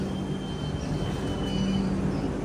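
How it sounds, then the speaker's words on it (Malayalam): Venad Express pulling into Cheriyanad railway station in Kerala, a steady low rumble of the moving train with faint wheel and rail noise, continuous and close throughout. "ട്രെയിൻ ഇപ്പം ചെറിയനാട് റെയിൽവേ സ്റ്റേഷനിലേക്ക് എത്തിയിരിക്കുകയാണ്."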